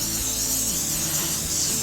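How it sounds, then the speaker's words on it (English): Cooking spray hisses onto a waffle maker in one continuous, close, steady spray lasting under two seconds, with no talking. "We're gonna spray our waffle maker."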